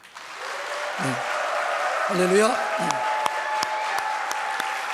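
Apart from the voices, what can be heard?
audience applause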